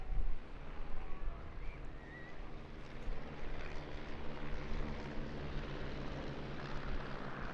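Propeller aircraft flying in echelon formation at an airshow in Eastbourne, a loud continuous drone of engines and props sustained overhead with a steady rumbling roar.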